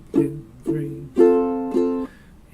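Four strummed ukulele chords ring out one after another, each slightly muted and clunky, with a soft buzz between strums.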